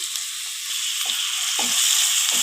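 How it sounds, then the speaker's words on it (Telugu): Thinly sliced onions sizzle in hot oil, a steady bright hiss with a few soft crackles rising and falling, close by with no voices. "ఆయిల్ వేడయింది. 2 ఉల్లిపాయలు సన్నగా కట్ చేసి వేస్తున్నాను."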